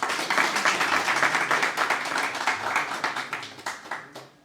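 An audience applauds at a birthday celebration for Rajyogi Kamal Bhai. The clapping is dense and close, swells briefly, then thins into scattered claps as it dies away.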